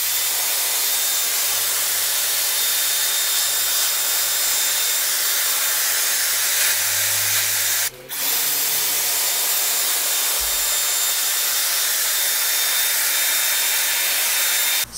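A Dyson Airwrap hair styler blows air in a steady, loud hiss, briefly cut off by a click near the middle before resuming, with no talking.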